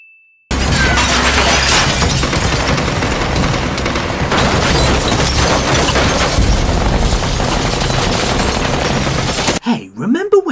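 Gunfire shattering glass in a Walking Dead season 8 battle scene, a dense, loud barrage of shots and breaking glass running for about nine seconds before cutting to quieter sound.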